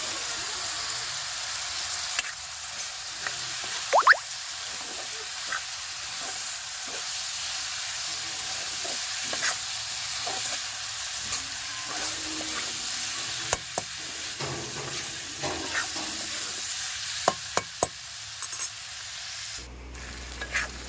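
Ground spices with salt, turmeric and chili powder fry in a pan, giving a steady close sizzle and hiss for the whole stretch, broken by scraping stirs and occasional clinks, with no talking.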